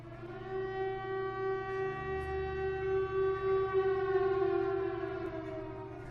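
A horror-film civil defense siren wails in one long, steady, loud tone that rises slightly in pitch and holds, with a deep rumbling underneath, and no voices.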